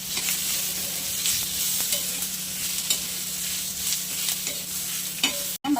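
Garlic cloves and coriander stirred into masala frying in a pan, giving a loud, steady sizzle with repeated scraping strokes of a spoon and a short clatter near the end.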